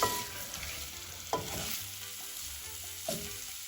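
Potatoes sauté in green curry paste in a pan, a soft steady sizzle broken by a few stirring scrapes, quiet and close with no talking.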